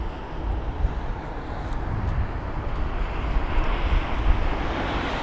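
A Boeing 787 airliner at Heathrow gives a steady broadband engine roar with heavy low rumble, fairly loud and continuous, with some wind noise and no talk.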